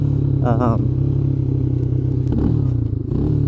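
A 196cc quad's engine idles and runs low in first gear with a steady, loud drone throughout, a brief higher whine near the start and a few clanks and scrapes over it.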